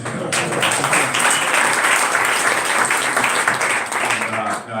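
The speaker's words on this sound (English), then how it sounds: "A round of applause for that." Audience at an investment manager meeting clapping for a speaker's tenth wedding anniversary: a sustained, fairly loud wash of many hands, steady throughout and tapering off at the very end.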